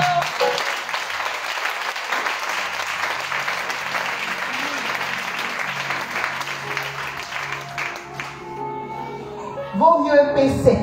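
An audience breaks into loud, sustained applause with dense clapping for about nine seconds, then it fades as a voice begins speaking.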